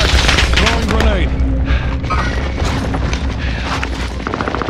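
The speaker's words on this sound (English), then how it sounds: "Throwing grenade." A grenade blast in Call of Duty on Rebirth Island, a heavy boom amid dense in-game gunfire and explosions, with voices from the game talking through the noise.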